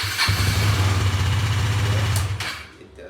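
A KTM Duke motorcycle engine catches and runs with a steady, low rumbling idle for about two seconds before cutting off, close and fairly loud, with no talk.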